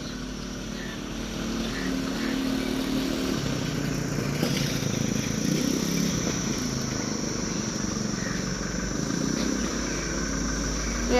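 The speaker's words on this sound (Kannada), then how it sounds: "ಈ ಸದ್ ಬರ್ತೈತ್ರಿ ಗಾಡಿ ಅಲ್ಲಿ ಐತಿ ನೋಡ್ರಿ" A motor vehicle engine running nearby, a steady droning hum that swells slightly and then holds for several seconds, with no speech over it.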